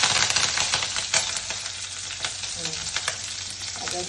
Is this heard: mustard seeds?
yes